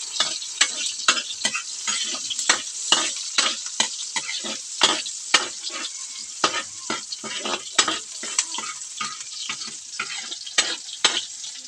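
A sautéed mixture sizzles and fries in a pan for ginisang ampalaya while a utensil stirs and scrapes, making repeated close clicks over a steady crackle, with no talking.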